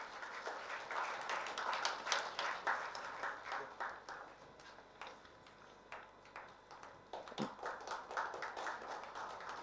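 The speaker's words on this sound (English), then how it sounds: "Give SIR a big round of applause." An audience at a conference awards event applauds with a steady patter of many hands clapping, moderately distant and sustained for nearly ten seconds, rising and falling slightly, with no speech over it.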